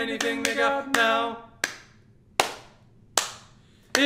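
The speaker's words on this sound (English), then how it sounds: "Some just clap their hands or paws or anything they got now." Sharp, separate hand claps ring out in a worship song, about six loud strikes spaced unevenly. The first few overlap with a sustained sung or played tone, and the later ones stand alone with short decaying echoes.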